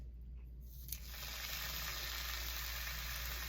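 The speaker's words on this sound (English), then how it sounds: "We love that sizzle." Steady, bright hiss of a hot dog sizzling in a hot pan, continuous and close after a brief quieter start.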